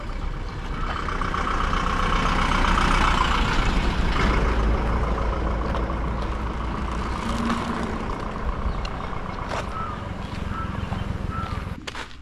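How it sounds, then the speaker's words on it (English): A big bus passing outside near a domed building, a broad steady engine rumble with low throb and hiss that swells and lingers across the whole stretch, moderately loud, with faint street noise around it. "I just hear a big bus."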